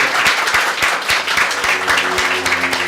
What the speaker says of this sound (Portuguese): Eu pedir uma salva de palmas para o nosso palestrante.